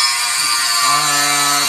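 An angle grinder whirring in a race team workshop, a steady loud broadband buzz that settles into a droning tone partway through, running without pause for the whole moment.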